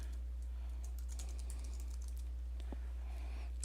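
Soft, quick keystrokes on a computer keyboard as a new password is entered, close and fairly quiet over a low steady hum, with no talking.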